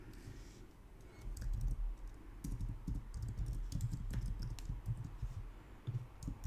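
Rapid, uneven keystrokes on a computer keyboard, close and continuous, with short bursts and brief pauses as code is entered.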